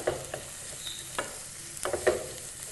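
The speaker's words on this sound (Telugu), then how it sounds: "నూనె వేడొచ్చిందండి ఇందులో ఆనియన్స్ వేసుకుందాం" Finely chopped onions fry in hot oil, a constant low sizzle broken by several sharp, close stirring scrapes and clicks against the pan.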